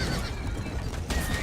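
A horse in a Red Dead style open-world video game neighs, a short whinny over soft hoof clip-clops and background ambience, close and moderately loud.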